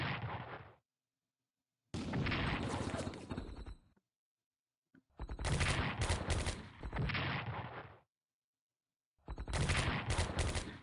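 Artillery bombardment in the WWII strategy game SC: WaW, with four loud bursts of rapid gunfire and explosions separated by short silences.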